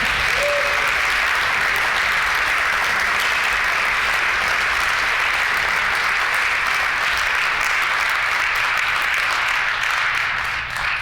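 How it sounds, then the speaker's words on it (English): Sustained applause fills a legislative chamber as members clap for the pages, a dense, even roar of many hands lasting several seconds without speech. "I wonder if we could give the pages another round of applause."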